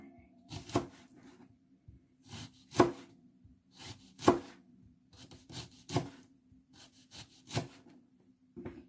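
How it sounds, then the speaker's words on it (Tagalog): Whole bell pepper being sliced thinly with a knife on a board, a close series of crisp, irregular cuts and knocks with short pauses between, each stroke ending in a light tap. "Hiwain mo siya ng manipis para dumami."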